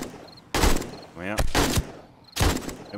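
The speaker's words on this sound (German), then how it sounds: "Immer gezielte Feuerstöße" Controlled bursts of gunfire from the survival game 7 Days to Die, three loud broadband volleys spaced about a second apart, with a brief voice in the gap between them.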